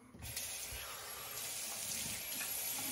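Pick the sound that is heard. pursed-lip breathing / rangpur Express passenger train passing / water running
water running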